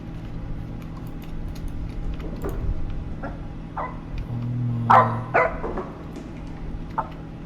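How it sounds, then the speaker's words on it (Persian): A dog in a horror video game barks several times, sharp separate barks rising out of a low ambient hum, moderately close, with no talking over them. "صدای سگ میاد، مگه اون نخوابیده بود؟ کجاست؟ اینجا داره پارس میکنه."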